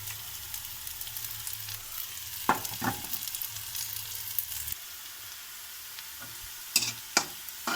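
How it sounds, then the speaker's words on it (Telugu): Curry leaves fry in hot oil with a steady, close sizzle and crackle, broken by a few sharp pops and clatters of a spoon against the pan; no one speaks. "లైట్ గోల్డ్ కలర్ వచ్చాక ఫ్రై చేసుకోవాలండి"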